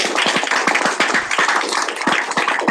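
An audience at a Senate session applauds after a speaker's request, a dense, steady patter of many hands clapping close by for a few seconds, with no voices over it.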